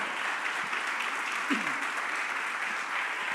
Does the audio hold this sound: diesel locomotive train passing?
no